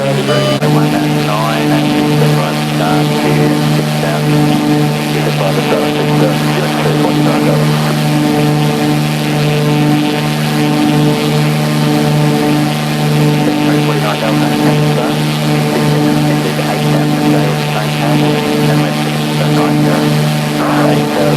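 Light aircraft engine droning steadily in the X-Plane 11 flight simulator, flying downwind at 2,000 feet near Franz Josef Airport in New Zealand; a loud, unbroken propeller hum with no pauses.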